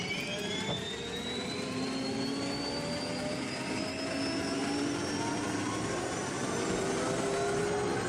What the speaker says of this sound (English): So you put an actual turbine engine sound or something into this.